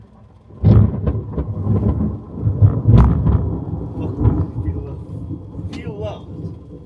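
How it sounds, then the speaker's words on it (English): Thunder rumbles through a major storm as a vehicle sits caught in it, a loud, sustained low roll with a few sharper cracks, close enough to shake the floor, while people talk over it. "Actually feel the thunder on the floor."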